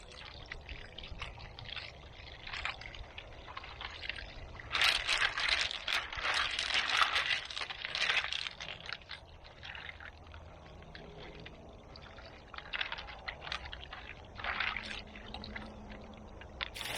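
Sulfur well water is dumped out of a container outdoors, with irregular splashing pours in several bursts, loudest in the middle, between quieter gaps.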